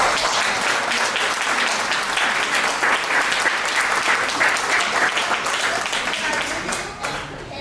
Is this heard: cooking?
no